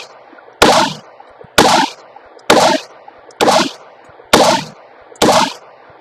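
A .22 caliber handgun fires six loud, sharp shots at a steady pace of roughly one per second. Each report is close and crisp and ends in a short ringing decay.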